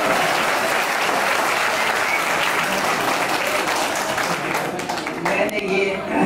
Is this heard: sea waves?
no